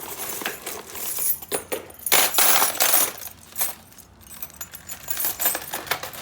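A bunch of Clinton CL1 setup keys jangles and clinks as it is sorted by hand in a truck, with bright metallic rattles in irregular bursts and short pauses, loud and close.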